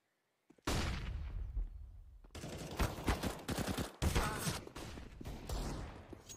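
Gunfire in a professional Counter-Strike match on Inferno crackles in dense, rapid bursts and single sharp shots, loud and near, with a heavy rifle crack among the volleys.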